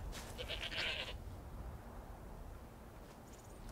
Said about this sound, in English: Come on, goat, follow me.